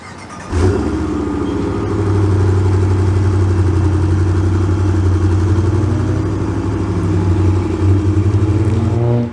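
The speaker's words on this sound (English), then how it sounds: "it definitely just sounds a little bit more muscular compared to what you get with a stock exhaust" A 2021 Ram 1500 pickup's engine idles and revs through a deep, throaty aftermarket performance exhaust, a steady low rumble with a few gentle swells, close and clear.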